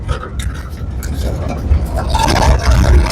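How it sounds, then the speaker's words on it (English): Steady rumbling road noise from a pickup truck rolling over rough pavement, with rattles and bumps, a voice talking over it. "you can tell by how much noise my truck is making. This road is not smooth."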